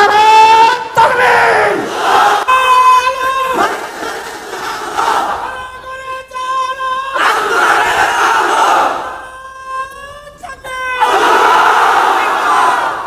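A large crowd at a Bengali Islamic gathering roars Allahu Akbar in unison in answer to the Nara-e-Takbir call, loud rhythmic chanted shouts rising and falling in repeated waves.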